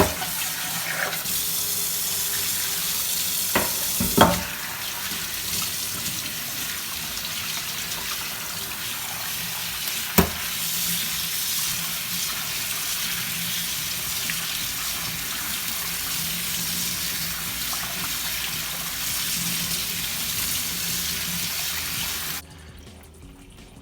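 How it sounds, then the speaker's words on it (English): Steady rushing tap water pours over rice in a colander at a kitchen sink, a continuous broadband splash with a couple of brief knocks from handling, running for over twenty seconds before cutting off. "get ourselves a colander, bang our rice in there, give it a good rinse under the tap"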